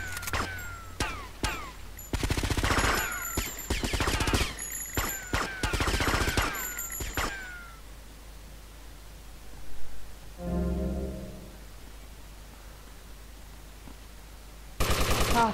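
Bursts of automatic gunfire in Grand Theft Auto Vice City, several rapid volleys in the first half followed by a quieter stretch and a final loud burst at the end.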